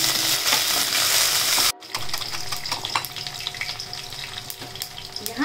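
Spices crackle and sizzle in hot oil in a pan while Bihari kadhi is being cooked. A loud burst of frying cuts off abruptly, then softer, scattered crackling and popping continue close by.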